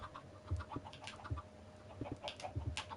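Chickens in the Minecraft video game clucking in short, repeated bursts of game-style bird sounds, fairly quiet and steady with no voices over them.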